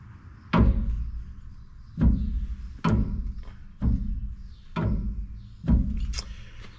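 A GM 10-bolt differential's pinion gear clunks from backlash, six heavy, evenly spaced knocks about a second apart, close up and with no talking.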